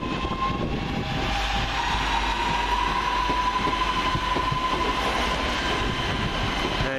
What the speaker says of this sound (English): And just now departing the 10:12 London Midlands service from Redditch to Lichfield Trent Valley via Birmingham New Street.